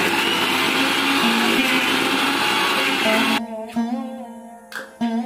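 Mixer grinder pasting brinjal seeds with prawns runs loud and steady for about three seconds, then cuts off, leaving a few short clicks and thuds.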